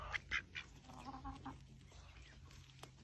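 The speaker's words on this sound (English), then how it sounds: "who can say no to happy little quacking and chirping faces?" A few soft duck quacks and chirps at the start, then quiet background with a faint click near the end.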